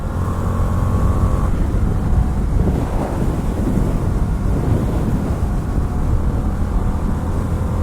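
Indian FTR 1200 S Race Replica motorcycle (2020, 19-inch front wheel) ridden at speed on a freeway, its engine roar buried under steady loud wind rush for the whole stretch, with no pauses.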